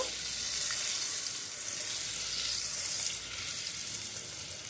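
Butter sizzling in hot white cooking oil in a pan over medium heat, a steady close hiss that holds constant and eases slightly toward the end.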